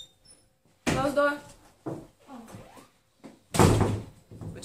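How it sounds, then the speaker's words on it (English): A door is pushed shut indoors, a solid thunk among a few soft knocks and bumps, with people talking close by before and after. "Close door."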